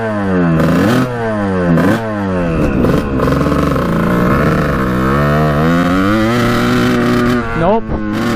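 A 1989 Kawasaki KX125 two-stroke dirt bike engine revving hard and close, with repeated rising and falling throttle blips, loud and continuous.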